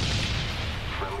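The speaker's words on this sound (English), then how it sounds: "Enemy carpet bomb!" Carpet bomb explosions in Call of Duty: Black Ops roll as a dense, continuous rumble of booms, loud and sustained across the short moment.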